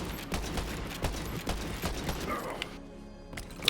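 Gunfire in Borderlands 3 crackles as a dense, busy burst of shots over game noise, then cuts out near the end, with a single sharp crack at the close.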